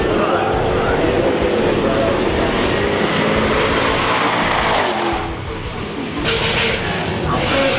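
A Range Rover, a family grocery-getter, roars through a burnout at a burnyard event, its engine droning loud and steady with tire noise and crowd chatter throughout, dipping briefly before surging again.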